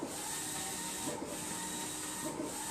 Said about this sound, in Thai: ตอนนี้แมนพิมพ์สติกเกอร์เนาะ